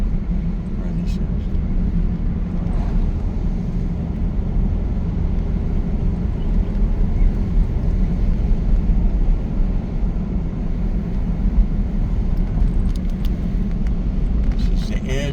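Car driving along a road near Lane Stadium in Blacksburg, a steady loud low engine and road rumble throughout with wind noise, the interior drone continuous and close.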